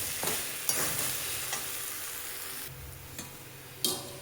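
Puffed rice is stirred in a hot pan with a steady crackling sizzle and scattered scraping taps from the spoon, close and continuous, with no voices.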